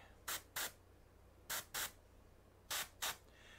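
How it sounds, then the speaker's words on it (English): An airbrush sprays glaze paint in six short hissing bursts, grouped in three pairs of quick sprays. Each burst is crisp and close, with near silence between them. "I'm spraying and flicking"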